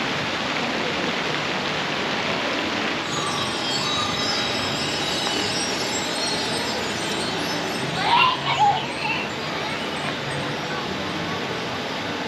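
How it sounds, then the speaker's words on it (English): A train at Europa Park theme park rolls past as a steady, fairly quiet wash of rumbling and rushing noise, with a brief louder clatter partway through. "Lovely train."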